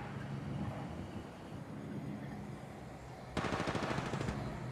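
Automatic gunfire in the mobile shooter Apex Legends Mobile, a rapid burst of shots near the end rising over a steady low ambient rumble, with no talk.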